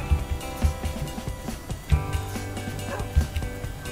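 A dog in the Minecraft video game lets out a series of short, quiet barks and yips in quick, uneven bursts with brief whimpering sounds between them.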